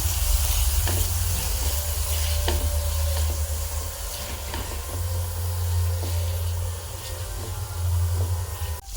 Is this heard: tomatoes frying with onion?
yes